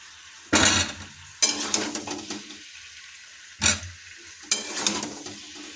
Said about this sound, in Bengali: সমস্ত সবজিগুলো প্রায় ভাজা হয়ে এসেছে